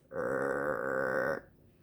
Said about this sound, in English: It's the sound of your stomach growling.